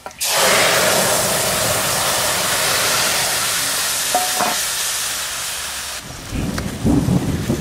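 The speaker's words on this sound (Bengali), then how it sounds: "এবার আমি মাছটা দিয়ে দেবো।" Hilsa fish dropped into hot oil seasoned with black cumin and green chilli, a loud steady sizzle filling the clip, easing after a few seconds as stirring begins, with distant thunder rumbling in the background.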